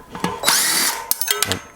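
A cordless power drill drives the six bolts of a Shimano SM-RT81 Ice Tech bicycle disc rotor, with several close whirring bursts of varying length, one long run in the middle, and short clicking pulses between them.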